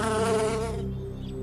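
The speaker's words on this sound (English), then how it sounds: "And a bee sips from a drop of dew." A bee buzzes steadily up close, a loud continuous droning hum that fades partly toward the end.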